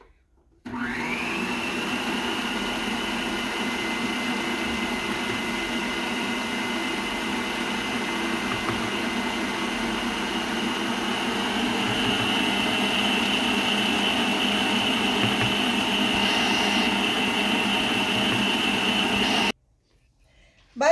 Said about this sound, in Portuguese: E agora vamos bater e ir colocando a farinha de trigo aos poucos